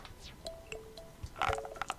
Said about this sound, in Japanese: サイコロの音がする